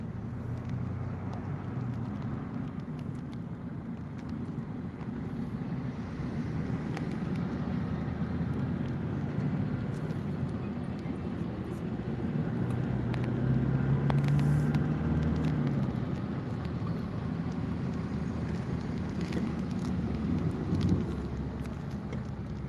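Traffic jam at night on the TB Simatupang toll road, a steady low rumble of idling and slowly moving vehicles with a faint hiss of rain and occasional brief louder swells from nearby cars.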